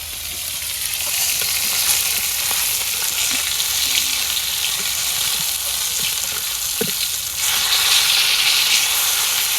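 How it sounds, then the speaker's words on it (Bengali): Onions fry in a pan with a loud, constant sizzle and hiss, broken by occasional stirring scrapes and a brief dip before the sizzle swells again. "পেঁয়াজটা টালা হয়ে গেছে"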